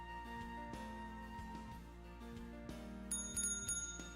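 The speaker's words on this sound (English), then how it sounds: "We can ring the bell, yes!" A bell in the Hanako's Flower Shop video game rings in a few bright, quick dings near the end, over a quiet, steady game background tune.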